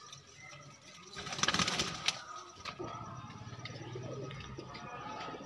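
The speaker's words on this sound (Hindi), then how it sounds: "तो जी कबूतरों को दाना शाना दिया है, ये देखिए किस तरह खा रही है" Pigeons feeding on scattered grain coo softly nearby, with bursts of fluttering and pecking clatter in the middle and low, rounded coos that continue to the end.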